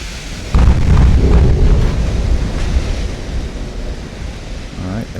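Shell hits and explosions on warships in the naval battle game Ultimate Admiral: Dreadnoughts: a sudden heavy boom followed by a deep, rolling rumble that slowly fades, with faint background game sounds.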